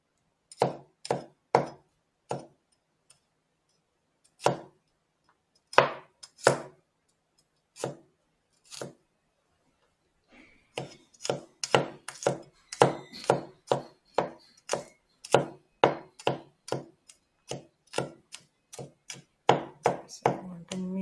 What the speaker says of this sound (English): We want our garlic cloves. Want to mince that up.